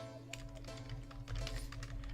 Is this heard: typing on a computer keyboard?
yes